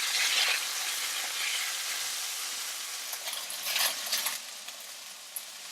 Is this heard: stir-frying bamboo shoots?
yes